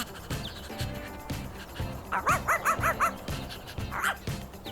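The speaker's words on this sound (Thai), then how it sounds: "เราร้อนพาสุนัขของเธอไปเดินเล่นในสวน" A dog barking in a park while out on a walk, a quick run of about five sharp barks followed by a single later bark over steady rhythmic background noise.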